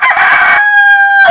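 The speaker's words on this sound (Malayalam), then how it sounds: "ഇയാളോട് കൂവാൻ പറഞ്ഞു കഴിഞ്ഞാൽ അദ്ദേഹം കൂവോ?" A rooster crows loudly and close by when told to, one full cock-a-doodle-doo that starts rough and then stretches into a long ringing tone, standing alone with nobody talking over it.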